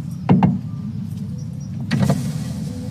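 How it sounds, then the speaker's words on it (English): Car failing to start, giving only clicks: a couple of sharp clicking bursts near the start and again about two seconds later over a steady low hum, with no engine turning over. "It just clicks and then nothing."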